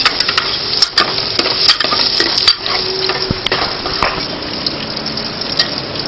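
Garlic sautéing in hot cooking oil in a pan, a loud, close, steady sizzle with scraping stirring strokes and small clinks throughout, no voices.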